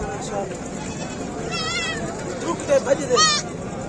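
Goat bleats at a livestock market: a few short wavering bleats near the midpoint and again toward the end, over a steady murmur of crowd noise and people talking.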